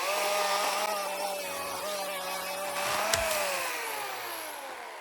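Battery-powered cordless chainsaw cutting wood outdoors in hot weather, a steady close whining motor drone with a faint change in pitch as the chain bites, running continuously without pauses.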